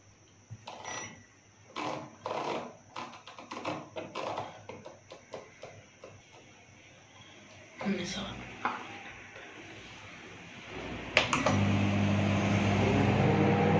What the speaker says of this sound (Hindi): टाइम सेट कर दिया है ओवन हमने चला दिया है